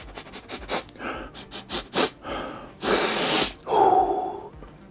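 A person sniffs close up at freshly unboxed model tank kits, making a run of short nasal sniffs followed by a couple of longer, louder breaths.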